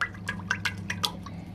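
Cooking oil glugs and splashes as it is poured into a pot for frying coconut shrimp, a quick series of wet gurgling bursts over a low steady hum.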